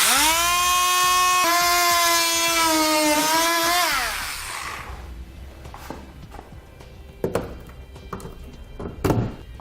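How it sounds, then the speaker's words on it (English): A handheld rotary tool whines at a high, steady pitch while trimming a plastic panel underneath a 2016 Jeep Patriot during a trailer hitch install, then winds down and stops, followed by a few scattered thunks and taps. "I'm going to use a rotary tool because I find I have the most control."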